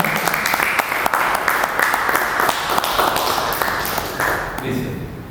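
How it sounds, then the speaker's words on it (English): A seated audience at a panel on Indian photojournalism gives steady, loud applause to welcome a panelist onto the stage, a sustained wash of clapping that eases off near the end. "please a big round of applause for Mukesh sir."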